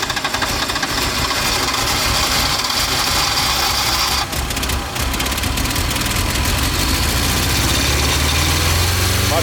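A Porsche 924 Turbo engine runs steadily at light throttle, a loud, close, rough mechanical drone with a slight knocking texture and a brief dip partway through.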